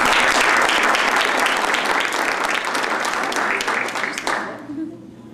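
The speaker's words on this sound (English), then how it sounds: "And we applaud." Sustained applause from an audience at a JROTC mess night ceremony honoring a vocal soloist, loud and dense throughout before fading out at the end, with some voices mixed in.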